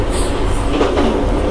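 A train in a video game pulls into a station, with a loud continuous rolling rumble and rail noise close up and no talk over it.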